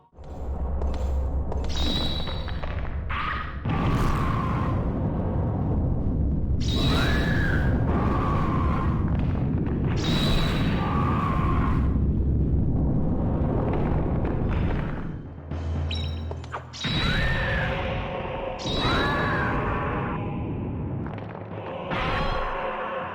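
Explosions from traps in the PS1 game Kagero: Deception 2 go off one after another as repeated loud booms and whooshes, with short gaps between bursts.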